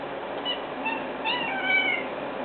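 A domestic cat meows several times, drawn-out and plaintive, close to the microphone over low background noise.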